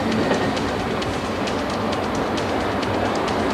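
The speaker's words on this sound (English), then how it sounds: "Wait a minute. This is our train." A train rolls along the tracks with a continuous heavy rumble and a rhythmic clickety-clack of wheels over rail joints, close and loud, with no voices.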